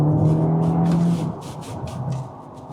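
An Audi S3 with a slightly slipping clutch pulls hard under boost, its engine holding a steady droning note that drops off after about a second and continues more softly. Heard from inside the car, with no talking.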